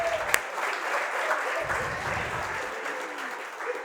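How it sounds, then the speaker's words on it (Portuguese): Steady applause from a church congregation during a worship service, dense clapping holding at an even level for a few seconds with faint voices mixed underneath. "Palmas para elas."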